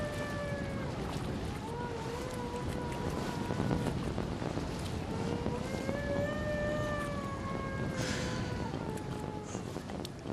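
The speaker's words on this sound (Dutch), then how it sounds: "De wind jankt" Wind blows hard across open water during a traditional skûtsje sailing-barge race at Lemmer, a continuous rushing buffet on the microphone with faint wavering tones rising and falling over it.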